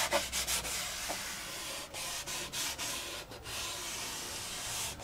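Paper covering rubbed and smoothed down by hand over a model FW190 aircraft fuselage, a continuous close, soft scratchy rubbing with short strokes and brief pauses, no voices.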